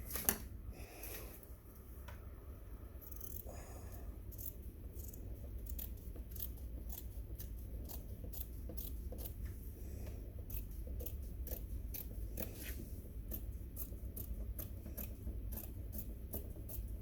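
Scissors cutting fabric for a pumpkin wall hanger, a long run of quiet, closely spaced snips in a steady rhythm, close up and alone in a quiet room.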